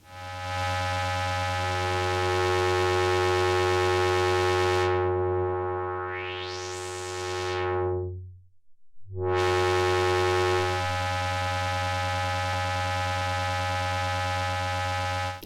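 Buzzy, metallic ring-modulated synthesizer tones from a Behringer 2600, with rich overtones, interrupted midway by a rising and falling sweep that briefly drops to silence before the tone returns.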